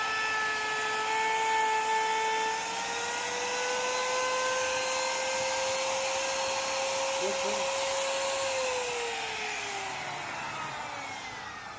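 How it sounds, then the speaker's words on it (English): Router trimming the edges of a wooden cutting board, a high, steady whine that shifts slightly in pitch as the cut loads and eases, running continuously at moderate level and tapering toward the end. "With the router spinning clockwise,"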